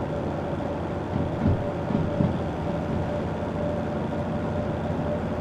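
Steady low rumble of a locomotive running in the Derail Valley train simulator game, a continuous mechanical drone with a faint tonal whine and a few soft bumps, no voices.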